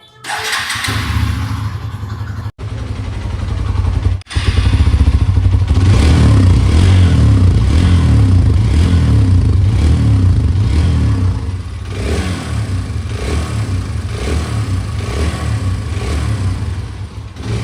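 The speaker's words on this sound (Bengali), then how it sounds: "সবার আগে চলুন এর ইঞ্জিন ও এক্সস্ট সাউন্ডকে একবার শোনা যাক।" A Hero Xtreme 160R 4V motorcycle engine cranks and fires up, then settles into a loud, close, steady idle with a throbbing exhaust note and mechanical clatter.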